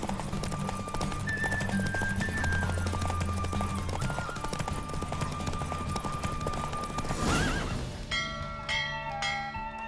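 Roach, the horse in The Witcher 3, gallops in a race with a rapid, steady drum of hooves over game music, and a neigh rises near the end before the hoofbeats fade.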